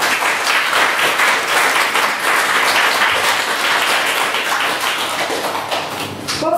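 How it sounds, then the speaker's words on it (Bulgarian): Audience applause at a summer arts academy creative writing event: sustained, dense clapping from a room full of people, steady and loud throughout before tapering slightly at the end. "Моля вашите аплодисменти."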